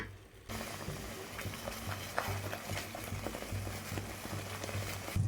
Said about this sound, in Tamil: மசாலா கொதித்து எண்ணெய் பிரிஞ்சு வந்துருச்சு.